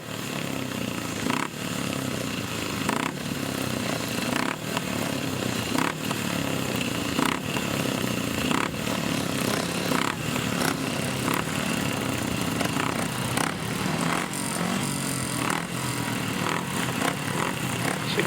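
Grasstrack motorcycles racing at the 2007 British Grasstrack Championships, a continuous loud rasping engine roar with revs pulsing up and down as bikes lap nearby, steady throughout with no voices heard.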